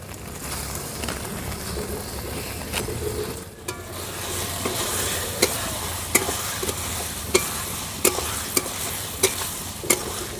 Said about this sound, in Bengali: চালটাও মশলার সঙ্গে হালকা কষিয়ে নেব।